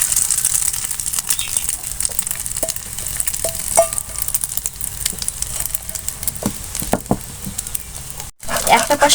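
Four beaten eggs hit very hot oil in a pan and fry with a loud, steady sizzle, with scattered pops and spatula scrapes and a brief cut near the end, close up.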